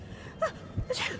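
A character in the stealth game Dishonored, at a masked party, lets out a single sharp sneeze with a quick gasping intake, short and close, followed by a brief voiced catch.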